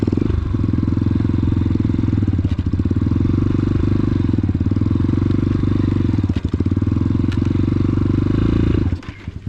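An X-Pro Titan 250cc motorcycle rolls along very slowly at a moto park, its engine loud and close in a steady, slightly lumpy low drone with faint clatter, cutting out near the end.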